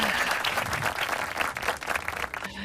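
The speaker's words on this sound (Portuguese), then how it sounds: "As palmas são novas, hein?" Audience applause at a Brazilian Portuguese talk on purpose, hyperconsumption and regenerative design: dense, steady clapping from a crowd filling the room for about two and a half seconds, tapering near the end.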